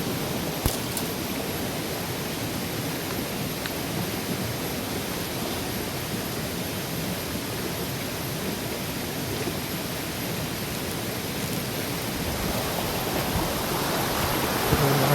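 Water rushes steadily in a video game, a continuous broadband hiss like a stream or small waterfall, even and unbroken at moderate loudness for the whole stretch, with no talking.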